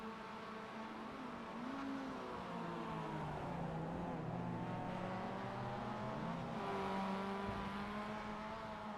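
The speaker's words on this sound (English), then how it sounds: "We might be getting an extra sort of 2 minutes of watching these MX5 cars run around the circuit" Mazda MX5 race cars run around the Brands Hatch circuit, several engines droning and revving together in overlapping, shifting pitches at a steady distance, with no talk.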